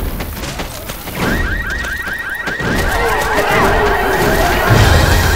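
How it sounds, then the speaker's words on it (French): Car alarm in Left 4 Dead 2 blares with a rapid, repeating electronic whoop, loud and continuous over a noisy backdrop of game sounds and scattered gunfire. "Ça veut dire qu'à mon avis, il y a une alarme"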